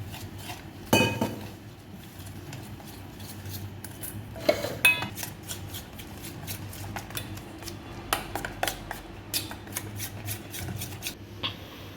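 Pumpkin flower batter mixed with salt and turmeric in a bowl with a spoon; intermittent clinks and taps of utensil against the bowl, scraping and stirring sounds, close and moderately loud, with no talking.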